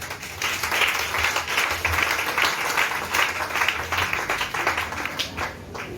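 A church congregation claps in a lively, sustained round of applause, dense and steady throughout without spoken words.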